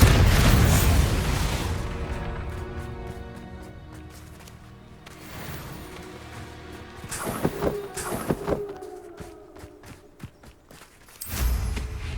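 The Bombarda spell bursts in Hogwarts Legacy, a loud explosive rush at the start that fades, then scattered impacts and pops with footsteps, and another burst near the end.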